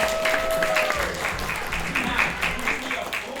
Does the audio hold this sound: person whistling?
no